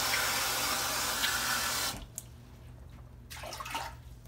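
Water runs steadily from a tap for a couple of seconds, then stops, followed by faint splashes and clinks nearby.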